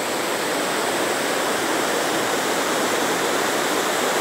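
The Acaraú river at Sobral, Ceará, swollen after heavy rain, roars with a dense, steady rush of fast-flowing water, loud and continuous without a break.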